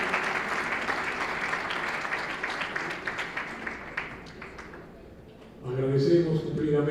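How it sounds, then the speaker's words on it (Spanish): An audience at a labor reform event applauds the labor secretary, with moderate clapping that fades out before a voice begins speaking near the end. "El aplauso de todos ustedes."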